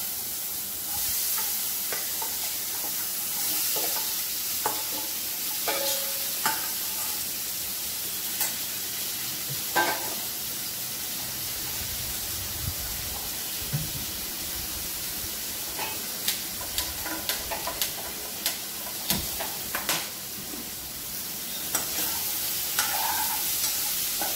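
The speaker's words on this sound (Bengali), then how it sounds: "এবার আমি এই সবজিগুলিকে একটু কড়াইতে নেড়ে নেবো" Vegetables stir-fry in oil tempered with cumin in a kadai, giving a steady hissing sizzle with scattered scraping and tapping strokes from the stirring spoon, without any talk.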